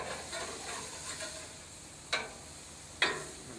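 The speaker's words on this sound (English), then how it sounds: "Let's flip this fish over." Fish flipped over on an outdoor barbecue grill, with a steady sizzle throughout and two sharp, close clacks of the flip about a second apart.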